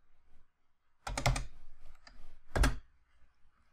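Keystrokes on a computer keyboard while a number is entered into an Excel spreadsheet table, heard as two quick bursts of close, crisp clicks separated by a short pause, with no talking.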